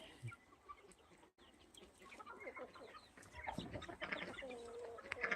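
Free-range village chickens cluck in the shade of a tree on a farm, one hen settled in a box to lay; scattered close clucks and calls build into a busier, louder chorus toward the end.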